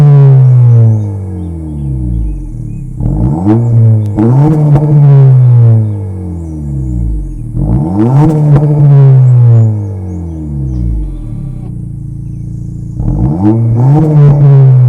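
The 1.5-liter VTEC turbo engine of a 2023 Acura Integra A-Spec is revved repeatedly, three loud rising surges through the exhaust, each falling back to a smooth idle between blips.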